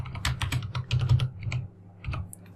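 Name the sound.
typing code on a computer keyboard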